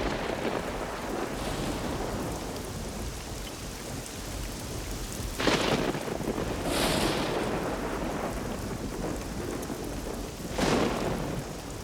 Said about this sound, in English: now a tremendous storm is brewing